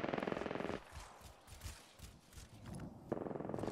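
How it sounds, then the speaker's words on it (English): Rapid automatic gunfire from an Apex Legends match opens loud and dense, drops to scattered distant shots and footsteps in the middle, then returns as a close, sustained burst at the end. "I am taking fire, friends."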